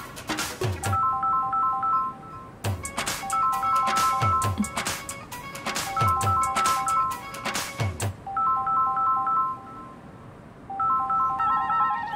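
A mobile phone ringtone plays loud and close, a repeating melodic tone pattern sounding in bursts with short pauses, while a caller waits for the line to connect.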